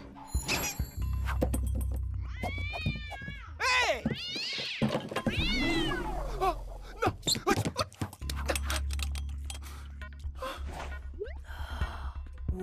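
A cartoon cat in an animated department-store comedy meows and caterwauls in loud, stretched bursts, mixed with gasps and busy background sounds and music.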